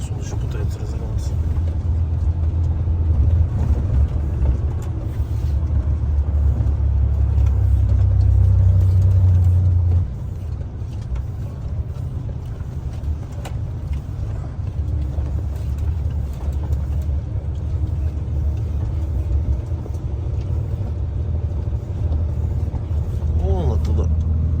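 A vehicle engine drones low and steady while descending a slope in Yakutsk at about 25 km/h, straining with a shift in pitch partway through, as people talk over it inside the cab.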